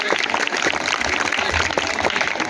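Classroom-style audience clapping for a team after its score is announced, a busy, continuous patter of many hands at fairly close range.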